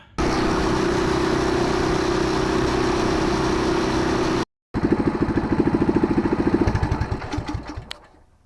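A Coleman mini-bike engine on a test ride after a throttle stop modification: a loud steady high-revving drone, a brief cut, then a rough pulsing engine note that fades as the bike slows.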